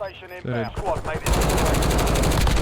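Loud automatic gunfire in the Call of Duty: Warzone video game breaks out right after a short stretch of a voice, a dense, rapid stream of shots continuing to the end.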